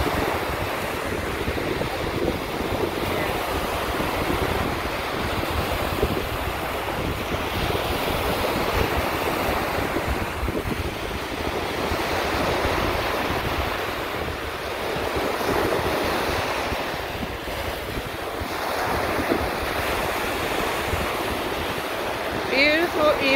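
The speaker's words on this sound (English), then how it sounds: "It's so windy and wavy" Windy beach with surf rolling in, a constant loud roar of waves mixed with heavy wind buffeting the microphone, steady throughout with gentle swells in intensity.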